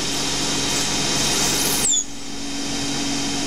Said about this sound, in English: using a slot drill as a boring bar.